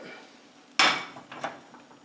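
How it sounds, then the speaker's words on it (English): A frittata flipped by inverting a plate over the pan: one loud, sharp clatter of plate and pan knocking together, followed by a few fainter clinks and taps as things settle, with no speech. "Take your plate, put it on your pan, take the whole thing, and give it a flip."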